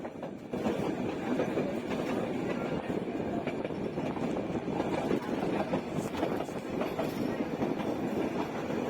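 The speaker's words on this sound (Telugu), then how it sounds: "ఇది పక్కన వెళ్తున్న వేరే ట్రైన్ అనమాట" A passing train on the Nilgiri Mountain Railway (Ooty toy train) is heard from aboard another train: a steady, moderately loud rumble with rhythmic wheel clatter running throughout, with no talking.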